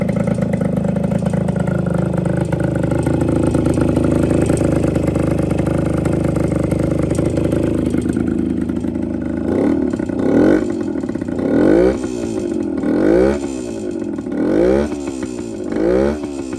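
A 1971 Yamaha AT1 125cc two-stroke motorcycle runs nearby, first a steady buzzing idle, then a series of sharp rhythmic throttle blips rising and falling in pitch, loud and alone.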